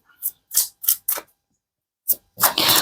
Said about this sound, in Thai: แล้วก็เดี๋ยวเรามา สับไพ่นี้